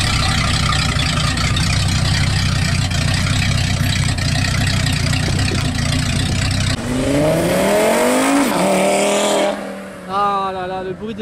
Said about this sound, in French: Ah là là, le bruit des RS3